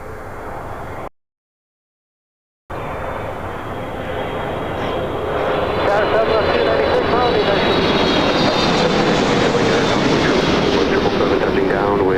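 A jet airliner, a 777-300ER, roars in to land on runway 24 right at LAX, the engine noise building steadily louder after a brief silent gap, with a voice heard over it.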